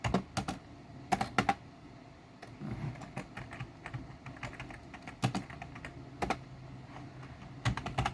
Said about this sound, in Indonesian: Itu kita ketik if pilihan